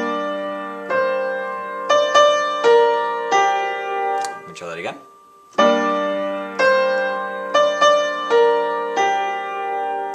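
Piano plays the right-hand part of a song's chorus, repeated chord stabs over sustained tones, close and clear; the playing breaks off midway for a brief spoken remark, then resumes.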